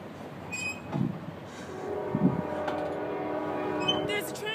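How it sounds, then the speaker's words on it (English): A train passes near a park with a rumbling, squealing run of steel wheels and sustained horn-like tones building over a few seconds, with faint voices and background noise around it. "There's a train."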